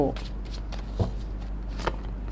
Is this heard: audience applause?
no